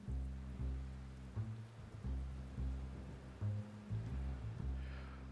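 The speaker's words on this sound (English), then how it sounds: "It's raining outside" Steady rain falls outside a house as a soft, continuous hiss over a low, droning hum, with no voices.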